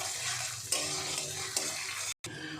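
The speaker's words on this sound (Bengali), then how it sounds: "এই মশলা কষানোর সময় কিন্তু আমি আঁচটা লোতে রেখেছি, লো টু মিডিয়ামে মশলাটা কষাতে হবে।" Onion, ginger and garlic paste masala being stirred and fried in a pan over low to medium heat, a steady close sizzle with a couple of sharp spoon scrapes against the pan and a brief dropout near the end.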